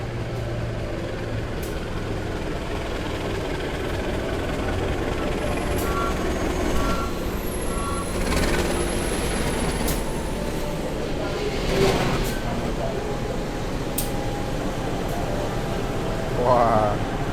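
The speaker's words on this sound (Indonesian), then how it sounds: "di jalur 1 ada kereta api Kaligung yang akan masuk di Stasiun Tegal ya" A Kaligung passenger train hauled by a locomotive in vintage livery rolls into Tegal station on track 1, a steady heavy rumble with brief high whines and tones, loud and close throughout.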